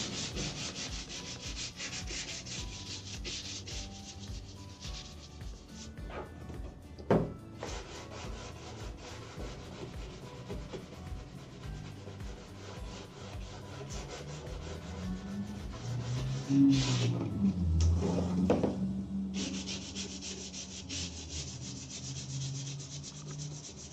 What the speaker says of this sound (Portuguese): Aí, mais uma lixadinha com a nossa lixinha fininha.